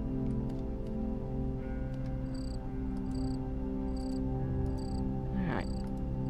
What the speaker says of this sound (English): Get all the blood in the smeltery from all these crickets.